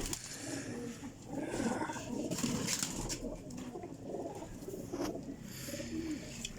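Sialkoti pigeons of a home-bred bloodline cooing steadily in a loft, several birds overlapping in a continuous close murmur with no talk.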